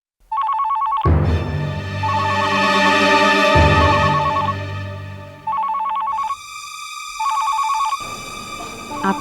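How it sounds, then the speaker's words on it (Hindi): A phone ringtone rings loudly in a repeating electronic melody, with musical accompaniment swelling underneath and then dropping out so the ringing stands nearly alone toward the end, with no talking. "आपको मलिका मैम का फोन ले लेना चाहिए"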